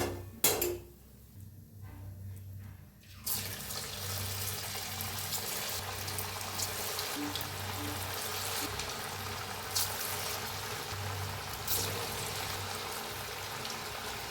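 Cabbage manchurian frying in hot oil: a continuous crackling sizzle that rises sharply after a quieter opening with a few clinks, then holds steady with small pops throughout.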